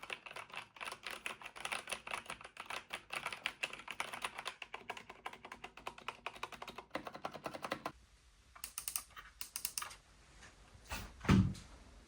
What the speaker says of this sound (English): Listen to how crisp this keyboard and mouse are.